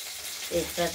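Bay leaves tempering in hot oil in a wok: a soft, steady sizzle and hiss, with a voice speaking over the second half.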